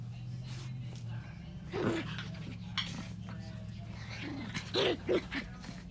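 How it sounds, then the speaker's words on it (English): A dog whimpers and gives a few short barks and yelps at a distance, over a steady low hum and quiet background noise. "My dog is going crazy."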